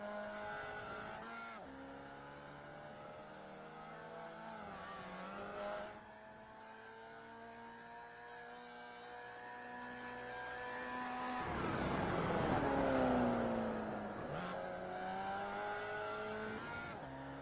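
Racing game cars at Circuito de Navarra's speed circuit, engines droning steadily through gear changes, then a loud surge of revving near the middle with a rising whine, fading back to a steady engine hum.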